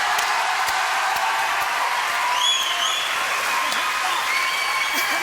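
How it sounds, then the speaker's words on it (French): Applause from a television studio audience on a French variety show, a dense, steady wash of clapping that holds at full strength from start to finish, with no talking over it. "Applaudissements pour les Sandberman, mesdames et messieurs."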